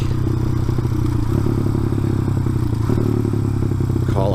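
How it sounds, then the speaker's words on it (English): A small motorcycle rides along steadily, its engine droning close and continuous with some rattling clatter, no talking. "Check out my little bike."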